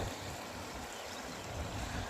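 Narmada canal water under the Sauni scheme gushes steadily from an opened valve, a low, even rushing flow that runs without a break.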